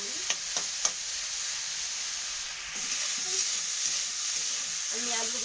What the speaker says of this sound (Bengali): আমি আলুগুলোকে একটু এইভাবে ভেজে নিয়েছি